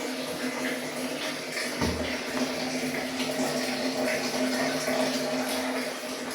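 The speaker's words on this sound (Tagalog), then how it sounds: "Mahina pa rin naman ang tubig." A weak stream of water runs from a tap while laundry is being done at home, a steady hissing trickle with faint splashing, continuous and close, with a brief low thud midway.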